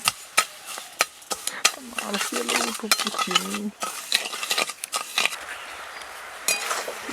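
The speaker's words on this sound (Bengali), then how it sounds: "হাফ কাপ চিনি আর অল্প একটু জল দিয়ে দিচ্ছি নাড়াচাড়া করে চিনিটাকে একটু গলিয়ে নেব" Half a cup of sugar with a little water stirred in a wok-style pan to melt it, irregular close scraping and metallic clinks of a spoon against the pan with a faint bubbling sizzle.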